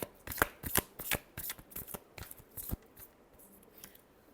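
A deck of tarot cards is shuffled close up in a brisk series of crisp riffling snaps, about a dozen quick bursts that fade to softer sliding near the end, with no talking.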